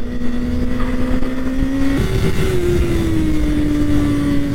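A Kawasaki ZX-6R (2024) sport motorcycle engine drones loudly and steadily at about 8000 rpm, its pitch holding, then jumping up and sliding gradually lower as the bike runs at high revs.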